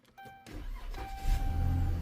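A push-to-start car engine cranks and catches after a fuel pump replacement, a short whir followed by a rising, close engine rumble that settles into a steady run.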